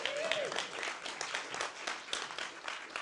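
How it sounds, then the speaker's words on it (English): Applause from an audience at a candidate forum in a Seattle venue, a dense steady patter of many hands clapping, moderately loud with a faint voice briefly rising under it near the start. "Give them a round of applause"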